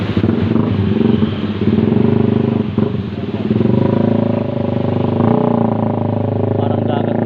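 A motorcycle rides through a flooded road in Giginto, Bulacan, its engine droning steadily close by under splashing water, with brief dips in loudness.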